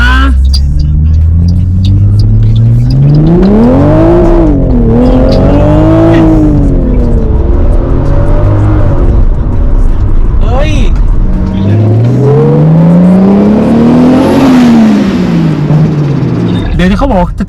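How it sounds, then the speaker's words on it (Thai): A Toyota Supra with a 2J engine revs hard and accelerates, loud and close, its pitch climbing and falling through several strong surges and gear pulls. "เครื่อง 2J นี่ยังไงผมว่ามันก็เป็นเครื่องที่ดีครับขับดี"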